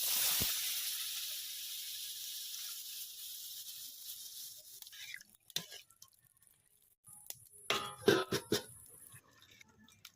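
Water poured onto a fried ginger-chili masala for a papaya-potato curry sets off a loud, broad hiss that slowly fades over several seconds, followed by scattered bubbling pops and a few clattering bursts near the end.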